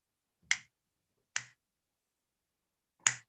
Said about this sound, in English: between those finger snaps